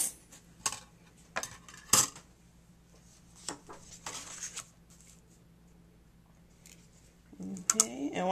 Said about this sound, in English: we are going to die cut